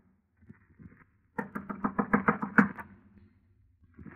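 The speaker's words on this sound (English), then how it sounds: "I clenched my teeth, my knuckles, and knocked on the door." A close, crisp run of about nine quick knuckle raps on a wooden door, fired in an even rhythm after a few faint taps, with quiet before and after.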